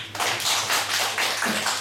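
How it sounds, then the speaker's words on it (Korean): A church congregation at a Wednesday worship service claps in thanks to God, a dense, steady round of applause that carries through the whole stretch with no voices over it. "하나님께 감사의 박수"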